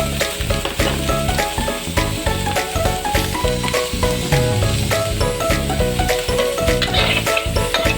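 Oil sizzles steadily in a pan as food fries, with music playing prominently over the crackle the whole time.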